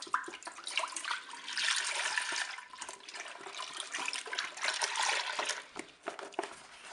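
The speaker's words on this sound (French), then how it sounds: "On va verser le lait dans la cuve" Milk is poured into the bowl of a Cookeo multicooker, giving a continuous soft splashing, trickling pour that lasts for several seconds at low volume.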